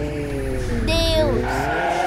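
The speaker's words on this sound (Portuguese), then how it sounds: "Meu Deus, eu bati o carro." Tires skid and squeal as a car slides and crashes while fleeing police in a Brazilian GTA-style tuning game, a loud continuous screech over engine roar lasting about two seconds.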